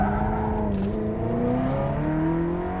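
A Porsche 996 Turbo accelerates hard on a track, its engine note climbing steadily through the gears in a loud, continuous run with no voices over it.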